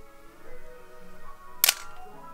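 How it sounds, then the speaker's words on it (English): A single sharp, plasticky shutter click from a Miranda MS-3 film camera, brief and close, standing out against a quiet background. "the shutter sound is one of the silliest things I think I've ever heard when it comes to a camera shutter"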